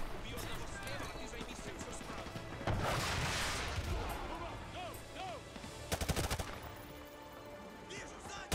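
Gunfire in the Call of Duty MW2 Remastered campaign, with bursts of automatic shots and a sharp rattle of rapid fire standing out over game ambience and a voice talking.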